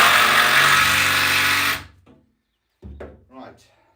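A 12 volt cordless drill driving screws into wood whines loudly and steadily for almost two seconds close by, then stops; brief speech follows after a short silence.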